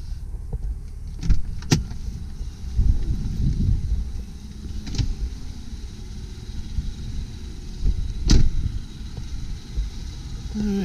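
A 2004 Lexus RX330 with 130,000 miles idles after start-up, a steady low rumble with a few sharp clicks and knocks scattered over it.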